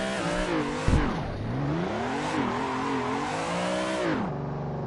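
A BMW's engine drones steadily in Assetto Corsa drifting, pitch rising and falling through revs with a sharp transient near the first second and a drop in pitch near the end, loud and close without talk.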